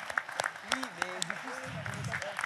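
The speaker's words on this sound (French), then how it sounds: "Vous pouvez l'applaudir, oui." A forum audience claps briefly for a panelist at a round-table event, light scattered applause running under a speaking voice on the microphone.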